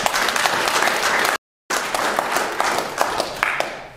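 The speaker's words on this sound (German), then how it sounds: "Danke für den Applaus" Audience applause at a lecture, dense steady clapping from a crowd that cuts out briefly to silence and then resumes.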